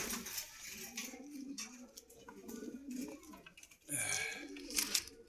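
Pigeons coo repeatedly at a pigeon market in Meradia Bazar, Rampura, Dhaka, with low throaty calls overlapping and a brief burst of louder bird activity near the end.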